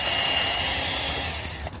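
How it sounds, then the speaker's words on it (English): A cordless drill whirs steadily and close for under two seconds while pilot drilling the corners of a wooden garden cloche, then cuts off abruptly. "So I'm going to pilot drill the corners."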